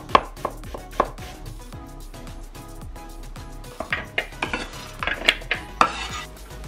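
An onion sliced with a kitchen knife for Japanese nikujaga beef stew, a long run of rapid, steady chops on a board, later turning into sharper, irregular knocks, close up with no voices.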